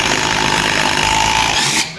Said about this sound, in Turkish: Ve somunumuzu 24 lokmayla açıyoruz.